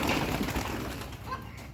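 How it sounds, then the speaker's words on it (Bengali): Pigeons on a village house roof in Bikrampur during the morning give off low, soft cooing that carries through nearby rustling ambience, fairly close and steady across the short stretch. "অনেক কবুতর।"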